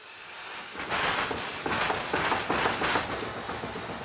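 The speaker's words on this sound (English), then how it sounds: "So I will turn the steam on here." A 19th-century single-cylinder steam engine in a steam-powered woodworking shop starting up, with loud broadband hissing steam and rhythmic chuffing pulses building steadily close by, and no talking.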